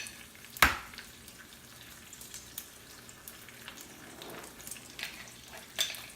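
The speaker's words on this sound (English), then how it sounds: "So while our bacon cooks" Bacon frying in a pan gives a low, steady sizzle with soft crackle throughout, broken by a sharp clatter near the start and a few lighter knocks later on.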